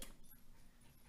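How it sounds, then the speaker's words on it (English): A small dog whimpers softly with short yips and panting, faint and close against quiet room noise, no talking. "Oh, is that your dog?"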